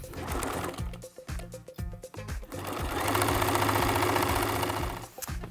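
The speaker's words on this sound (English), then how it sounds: "I'm just going to make sure that I'm really reinforcing that so I don't drop the pie." Sewing machine running in steady bursts while stitching the strap of a fabric pie carrier, a fast mechanical whir with short pauses, then a long continuous run, close and clear with no talking.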